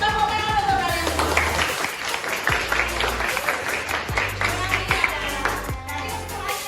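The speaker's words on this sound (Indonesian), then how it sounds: "Ya, tepuk tangan untuk kalian semua." Applause from a group, likely including children, at a school positive-culture activity, with steady mixed clapping throughout, rhythmic bursts mixed in, and a voice speaking over it at times.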